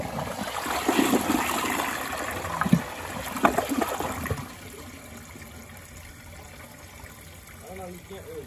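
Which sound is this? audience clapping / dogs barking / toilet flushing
toilet flushing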